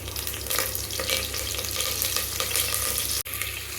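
Fennel, cinnamon and cardamom splutter in hot oil for a chicken kurma, making a dense, close crackle and sizzle that drops out for a brief moment near the end.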